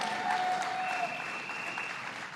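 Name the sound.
crowd applauding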